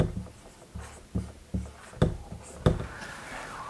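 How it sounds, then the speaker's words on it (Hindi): Chalk or marker strokes on a board write a Hindi word, a series of distinct taps and scrapes at an uneven pace, close and moderately loud, with no talking. "तो यहां पर हम लिखेंगे"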